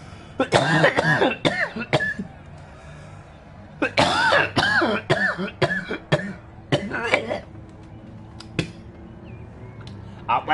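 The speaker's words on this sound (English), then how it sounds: "Coughing so much, it's bringing tears to my eyes." Repeated harsh coughing fits come in bursts with short pauses, close and loud, mixed with strained vocal sounds.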